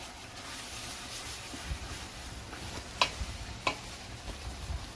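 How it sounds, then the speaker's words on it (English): Ground egusi goes into a soup pot of vegetarian egusi: a soft, constant simmering hiss with a few light spoon taps and clicks, faint and close. "I'm going to add my egusi like so."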